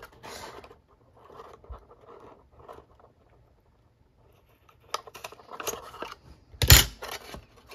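A small hole punched in scrapbooking paper for a Christmas surprise gift ball, with quiet rustling of paper, then a few close clicks and a sharp punch burst near the end.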